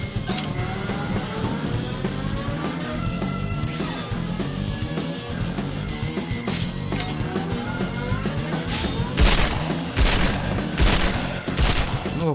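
Rapid bursts of video game gunfire with sharp mechanical clatter, repeating in volleys over a dense, busy background.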